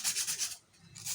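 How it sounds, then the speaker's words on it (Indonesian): Sandpaper rubbed briskly over a coconut shell bonsai, several quick close scratchy strokes in a steady rhythm, a short pause, then another stroke, with no voices. "kita amplas ya supaya lebih rata ya"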